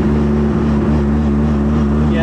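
Bridgeport-ported turbo Mazda RX-7 rotary engine running, a loud steady droning exhaust with strong low harmonics, close and continuous, no talk heard.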